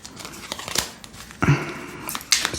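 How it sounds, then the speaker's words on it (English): A small deck of oracle cards is shuffled by hand, close up, with soft papery riffles and two sharper flicking snaps as the cards are bridged and squared, without any talking. "It's been a while since I shuffled this little deck."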